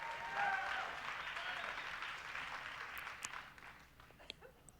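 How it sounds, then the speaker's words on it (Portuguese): A church congregation applauds steadily, the clapping gradually thinning out, with a voice speaking over it in the background. "Pode bater palmas, tudo bem."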